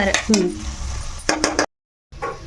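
Prawns and onions fry together in a pan with a steady sizzle, broken by sharp scrapes and clinks of a spoon stirring, close by, with a brief silent gap.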